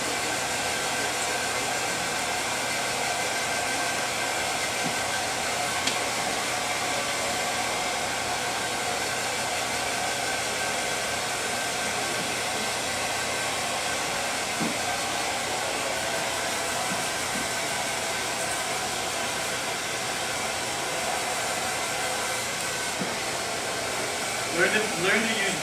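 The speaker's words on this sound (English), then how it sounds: "Learn to use both hands, flipping the blower from left hand to right hand." A hair dryer blows steadily while hair is dried during a short asymmetric bob haircut, a continuous loud whooshing hum held close throughout with little change in level.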